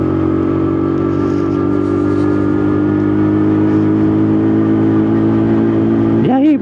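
A small WK Colt 50 motorbike climbs a hill with a loud, buzzing engine held at a steady strain, then revs up sharply near the end, heard close without speech.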